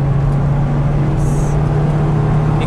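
A Nissan Grand Livina 1800cc six-speed car driven flat out in third gear near 120 km/h, heard from inside as a loud, steady engine drone with road roar, constant and unbroken, no speech.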